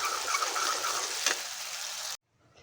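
Onion paste for chhole sizzles and fries in a pan, a close, even crackle that stops abruptly near the end and leaves only faint residual sound.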